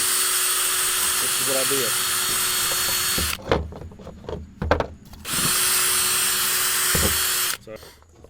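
A drill spinning a wire brush whirs loudly while cleaning a part from a 2005 Chevy Colorado engine, in two sustained bursts of about three seconds each, with a brief spoken remark in the pause between them.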